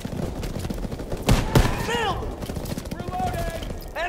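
Gunfire crackles through a D-Day beach landing in Call of Duty WWII, with bursts of rifle and machine-gun shots, a couple of sharp loud cracks near the middle and shouted voices mixed in.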